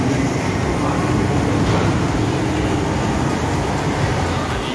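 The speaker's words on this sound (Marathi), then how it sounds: "मेट्रो ट्रॅक चेंज करून येते, तर आपण बघूया" A Mumbai Metro Line 7 train rolls into the platform with a steady, loud rumble and rail noise that holds at an even level throughout.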